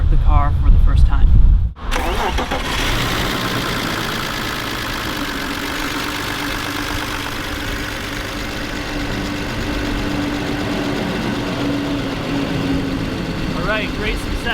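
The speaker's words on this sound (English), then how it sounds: "we're going to try to start the car for the first time" A BMW E39 bought for $400, sitting unused for about a year and jump-started from a pack, cranks briefly, then catches and settles into a steady idle for over ten seconds, heard close with no talk.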